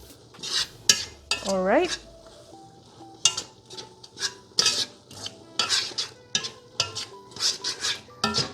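Pancit canton rice vermicelli with black pepper being tossed and mixed in a pan, with a busy run of sharp utensil clinks and scrapes against the metal over a light sizzle; a voice speaks briefly near the start.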